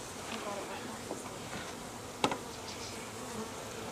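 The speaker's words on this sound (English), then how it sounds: "this is a lot of bees" Many honeybees hum in a soft, steady buzz nearby during a package install, with one brief sharp tap partway through; no talk.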